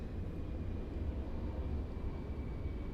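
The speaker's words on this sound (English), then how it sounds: "All right, so there's the airplane." An airplane passing overhead at a meditation centre in Phuket makes a low, steady rumbling drone. The sound is distant and even, holds for the whole stretch, and no one speaks over it.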